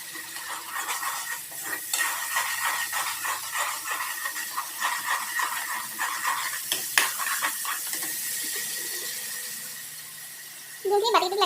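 Spices sizzling and frying in a pan while duck is cooked, a continuous hissing crackle with stirring scrapes, and a voice talking briefly near the end.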